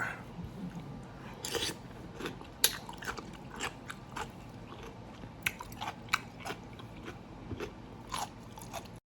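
Close, crisp crunching and chewing of a spicy Thai cucumber salad with crab and fermented fish, with irregular bites and crackles repeating over about nine seconds, with no talking.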